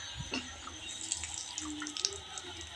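Water runs from a tap or hose while garden plants, including a new lime tree, are watered, a soft steady trickle with small drips and splashes at modest level and no talk.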